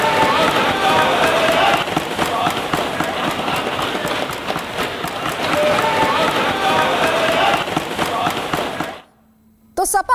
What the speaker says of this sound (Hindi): तालियां योगी आदित्यनाथ के नाम पर कैसे बज रही